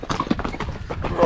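Horse hooves clip-clop at a steady walking rhythm as a horse ride through a Kyrgyzstan village ends, several close, fairly loud hoofbeats in quick succession.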